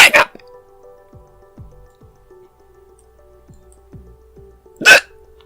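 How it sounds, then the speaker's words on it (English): Two sharp hiccups from a person, one at the very start and one near the end, loud and close, with a few soft faint clicks and drips in the quiet between them. "Hiccup!"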